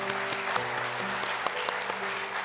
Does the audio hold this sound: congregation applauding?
yes